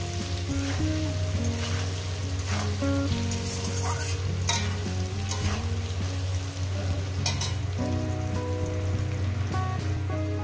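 Potatoes fry in a pan with a steady, loud sizzle, spitting oil and occasional stirring scrapes running continuously, with no talking.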